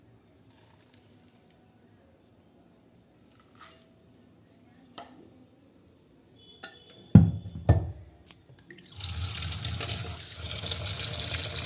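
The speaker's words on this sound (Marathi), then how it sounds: "चला प्रथम आपण भाजी धुवूया" A few soft clicks and squishes in a quiet room, then a tap opens and water runs steadily and loudly into a sink as vegetables are washed.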